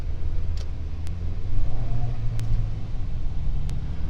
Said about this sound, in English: Boy, this vehicle's driving slow.